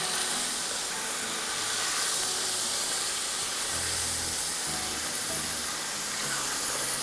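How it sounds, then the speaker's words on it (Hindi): Chicken frying in a pan for biryani gives off a steady, fairly loud hissing sizzle, with faint low bubbling and pops underneath throughout. "इसको हमें 5 मिनट फ्राई करना है जब तक कि चिकन पिंक से वाइट हो जाए।"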